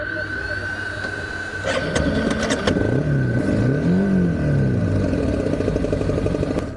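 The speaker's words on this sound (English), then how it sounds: "The bike no longer sounded right." A motorbike with a burnt clutch running badly, its engine droning unevenly with wavering pitch rising and falling as it labours, fairly loud and near, with a few sharp clicks and a voice talking over it.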